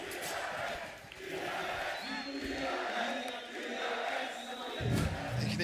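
A large esports arena crowd at the 2022 Valorant Champions in Istanbul roars and cheers continuously during a DRX vs FunPlus Phoenix match, with a commentator-like voice faintly mixed in, swelling near the end.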